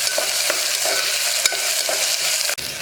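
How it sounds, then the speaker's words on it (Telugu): Coarsely pounded ginger garlic paste fries in a pan for a dry meat curry, giving a loud, steady sizzle with regular stirring scrapes and a couple of sharp knocks against the pan. "ఇప్పుడు కచ్చాపచ్చగా దంచి పెట్టుకున్నటువంటి అల్లం వెల్లుల్లి పేస్ట్ ఆ పచ్చి వాసన పోయేదాకా వేగనివ్వాలి."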